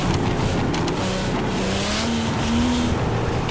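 A BMW M3 in a GTA driving game roars hard under load, its engine note climbing steadily while tires squeal and skid, loud and continuous with gritty road noise and no talking.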